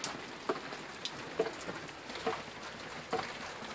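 Rain falling outdoors at dawn near a barbecue smoker, a steady patter and hiss with a few louder drips spaced through it and faint chirps in the background.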